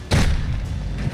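A single heavy sniper rifle shot in a video game lands as a deep, booming blast that rings out and decays over about a second, with no voices.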